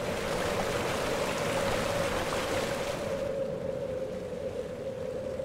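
The Spiti river rushes and gurgles in a steady, dense wash of flowing water, close and continuous, with no voices.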